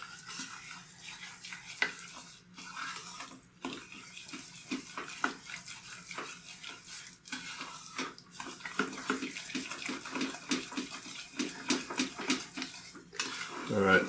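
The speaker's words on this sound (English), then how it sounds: "Just start mixing that in." Brownie batter with coconut and chocolate being stirred after vanilla is added, a utensil scraping and clinking against a bowl in steady repeated strokes, close and fairly quiet with no talking.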